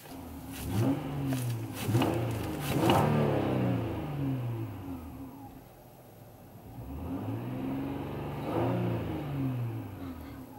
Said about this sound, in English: So let's hear how this Accord sounds.